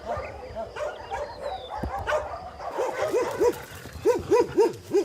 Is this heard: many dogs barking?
yes